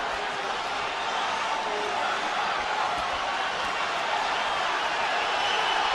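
Boxing arena crowd at the Golovkin vs Alvarez fight, on its feet as the bout nears its end: a dense, steady roar of many voices that holds loud and unbroken throughout.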